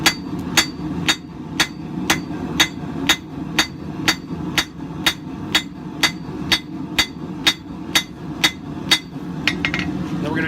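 Hammering forms a sheep's foot tip on the end of a forged coil spring knife, a long run of about twenty bright, ringing metal strikes at a steady pace, close up and without speech.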